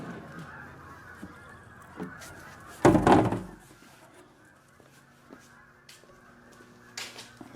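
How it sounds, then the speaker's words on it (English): A goose honks loudly once in the middle, with fainter bird calls and quiet outdoor ambience around it. "Got a lot of geese out there."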